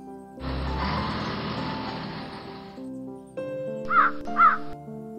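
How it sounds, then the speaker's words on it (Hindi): A crow caws loudly and close by, giving a couple of harsh, nasal calls after a stretch of broad hiss, with no speech. "कौवा"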